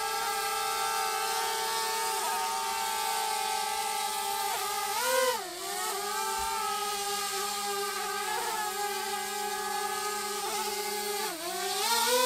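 A camera drone flying outdoors gives a steady, close buzzing whine whose pitch dips and rises as it maneuvers, with no one talking.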